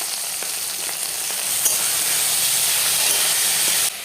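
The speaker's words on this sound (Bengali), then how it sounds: "এবার আলুটাকে ভেজে নেব" Potatoes frying in a pan for chickpea ghugni, a steady loud sizzle and hiss that holds throughout and swells slightly midway, with no talking.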